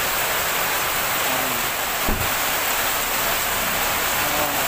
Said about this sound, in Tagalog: Ulan, mga kaimas.